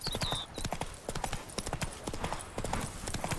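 Steady rhythmic clip-clop of a horse's hooves trotting in the video game Witcher 3, close and continuous over the full stretch with faint game ambience.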